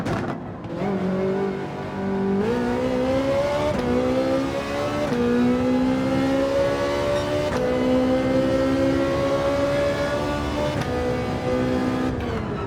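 McLaren GT3 race car in Gran Turismo 7 revving through gears, a loud continuous engine whine climbing and dropping with each shift, alone with no voices.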